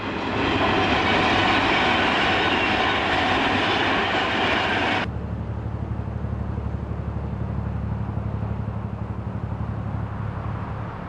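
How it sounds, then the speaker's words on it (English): A train rolls along a railway line beside a canal, a loud continuous rumble of wheels and cars that drops abruptly to a quieter steady roar as it moves on, with no voices. "You only hear the trains once in a while"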